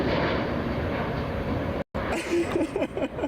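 Airplane noise at Chicago O'Hare International Airport: a loud, steady broadband roar that cuts out briefly, then returns with a voice talking over it.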